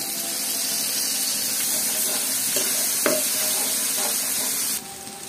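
Turmeric, ginger and chili stirred into lightly browned onions in a pan give a steady sizzle throughout, with a few soft scrapes of stirring, and no talk.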